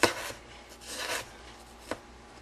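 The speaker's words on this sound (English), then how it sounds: "So I'm going to slice it really thinly." A knife cutting thin slices of fresh ginger on a board, with a sharp scraping cut at the start, a longer rasping slice in the middle and one more short crisp cut near the end, close and fairly quiet.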